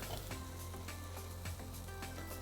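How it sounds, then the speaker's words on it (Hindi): Tomatoes and eggplant roasting in a pan for chokha, a steady low sizzle running continuously at moderate loudness with faint stirring clicks, no voices. "टमाटर को अच्छे से भूनना है, बैंगन की भुनाई अच्छे से होनी है"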